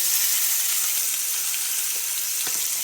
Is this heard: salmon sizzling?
yes